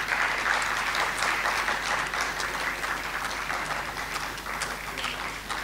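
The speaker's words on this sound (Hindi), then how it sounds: "एक बारी और तालियां हो जाए।" An audience at an Indian classical music and dance festival applauds steadily, with dense continuous clapping from a large crowd.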